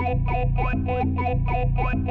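An FM Zone boutique FM synth plays through a broken reverb effect, producing a dense, distorted, warbling tone that pulses in a steady repeating pattern about three times per second, loud and continuous throughout.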